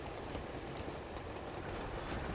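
A train in the video game Uncharted 2 rumbles steadily along the tracks with continuous rolling clatter, dense and unbroken, with no voices over it.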